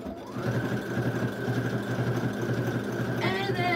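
A sewing machine stitches fabric scraps with a quick, even mechanical whir and needle rhythm for a few seconds. It is fairly quiet and close.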